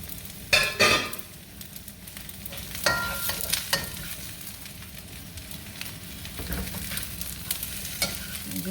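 Zucchini and yellow squash fry in a pan for vegetable fried rice, a constant crackling sizzle broken by sharp bursts of scraping and clatter as the pieces are stirred around, with no voices.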